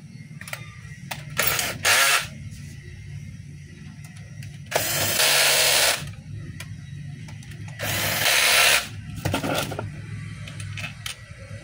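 Power drill driving screws into the housing of a 10 kg DeWalt D25899 jackhammer under repair, with three loud whirring bursts of a second or two each, separated by quieter pauses with faint ratcheting clicks.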